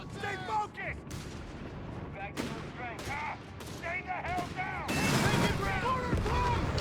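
A .30 cal machine gun crew fires in the Company of Heroes 3 strategy game, with bursts and booming battle fire under continuous commentator talk that grows denser and louder toward the end.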